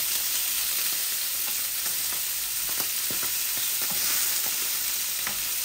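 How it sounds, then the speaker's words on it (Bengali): Frozen hilsa fish pieces frying in oil, a loud continuous close-up sizzle with scattered pops and spatters throughout, and no voices. "মাছগুলাকে আমি একটু ভেজে নিচ্ছি।"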